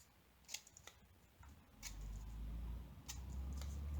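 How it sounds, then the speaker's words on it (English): Scissors snipping through a diamond painting canvas, a few sharp, quiet clicks and snips spaced irregularly over a low background rumble. "I find cutting with the scissors a little bit easier than cutting with the blade"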